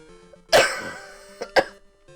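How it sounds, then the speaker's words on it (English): A person coughs close to the microphone during a Link's Awakening DX game session, one heavy harsh cough followed by a lighter pair of short coughs, with faint game music underneath. "Like I said, sorry about all the coughing."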